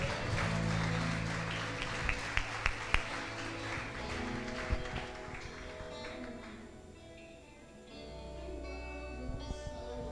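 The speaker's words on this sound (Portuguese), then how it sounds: "Aplauda o Senhor, querido." Church congregation clapping for the Lord over sustained music, the applause loudest early, then thinning out with a few scattered claps near the end.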